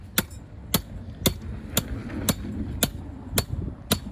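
Eight sharp metallic hammer strikes ring out at a steady pace, each a bright clanging impact on steel tank-hinge test pieces during a crash test, with a low background hum between blows.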